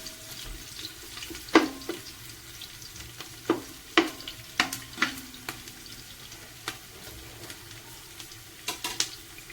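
Onions frying in oil for a Kerala-style chicken biryani, with a steady soft sizzle and repeated sharp scraping stir strokes from a spoon against the pan, close up and without talk.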